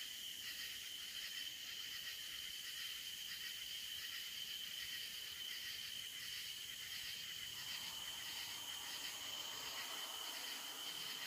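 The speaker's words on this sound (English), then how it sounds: "between the frogs and the crickets and the cicadas" Crickets and cicadas trill at night in the northeast Texas countryside, a dense, steady high-pitched chorus that never lets up, with a soft low hiss beneath it.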